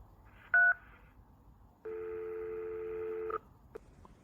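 A mobile phone keypad beeps out short dialing tones while calling an emergency number, a brief tone followed by a longer steady one and a couple of faint blips, clear and close with no voices.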